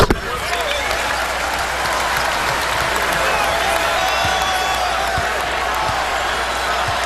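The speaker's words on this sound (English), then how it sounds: "Here comes the crowd on Senior Day at the Yum Center." A college basketball crowd at the Yum Center on Senior Day, Notre Dame against Louisville, roars and applauds in a steady, loud wall of cheering with faint squeaks and bounces underneath.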